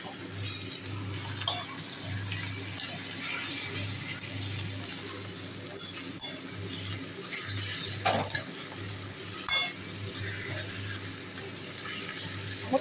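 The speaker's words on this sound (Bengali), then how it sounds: "আমি এই হাতাটা দিয়ে আলুগুলোকে একটু ছেড়ে দিচ্ছি" A ladle stirs and loosens salted potatoes in a hot pan, with a steady background sizzle broken by occasional scrapes and knocks against the metal, close and moderately loud throughout.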